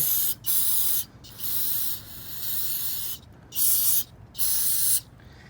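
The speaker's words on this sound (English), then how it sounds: "spray a little bit of brake cleaner on it" Several short bursts of brake cleaner aerosol spray hiss onto lawn mower drive parts, each about half a second to a second long, separated by brief pauses, close and fairly loud with no talking.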